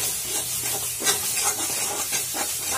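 A spoon stirs chili powder and turmeric masala in oil in a pan for paneer masala, with soft repeated scraping strokes over a continuous gentle sizzle, close and with no talking.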